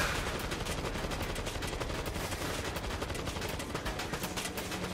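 A turret in the zombie shooter World War Z fires a steady, rapid stream of shots for the whole span, with continuous dense automatic fire at moderate loudness and no pauses.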